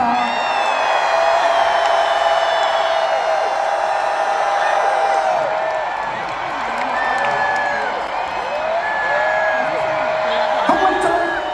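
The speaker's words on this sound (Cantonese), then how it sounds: "俾我聽下你哋嘅熱情歡呼聲得唔得啊？" A large Hong Kong concert crowd at a 40th-anniversary world-tour show cheers loudly and continuously, with high whoops and screams rising over a dense roar that swells and dips slightly.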